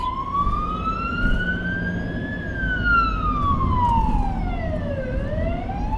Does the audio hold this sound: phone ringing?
no